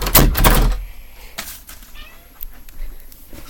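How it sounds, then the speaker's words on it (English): A house cat named Peanut meows at a door to be let in, a couple of short cries near the start followed by faint thumps and scratching in a quiet room. "my cat wants to come in."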